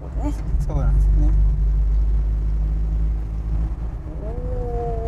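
An Isuzu Bellett 1600GT with a four-speed manual transmission: a low, steady engine drone under the throttle, heard from inside the car, with people talking over it.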